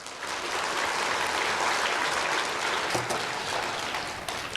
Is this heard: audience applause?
yes